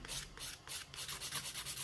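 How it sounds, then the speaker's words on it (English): A nail file rubs back and forth around a fingernail cuticle during a manicure, a close, steady rasping in short repeated strokes with brief pauses between them and no talking. "And I'm just filing around the cuticle."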